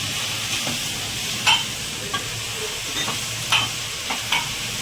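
Khichdi ingredients such as onions being stirred and fried in oil: a soft steady sizzle with a few sharp spoon scrapes and taps, close and moderate in level, with no speech.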